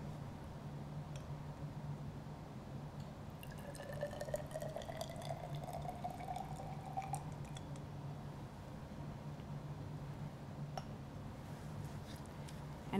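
Twenty millilitres of hot water taken off a hot plate trickles as it is measured out for a calorimetry experiment, a faint liquid pour with a rising tone over a steady background hum.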